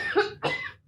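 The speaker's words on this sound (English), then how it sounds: "there's probably going to be hacking and coughing" Two harsh coughs from a man who is a little sick, close to the microphone, the second following quickly after the first.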